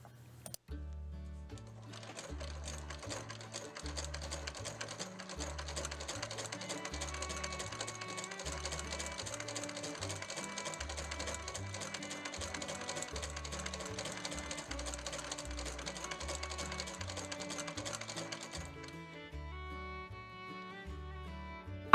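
A sewing machine stitches lace onto a frayed green velvet ribbon armband, running in a steady quiet mechanical patter for most of the clip before slowing and stopping near the end.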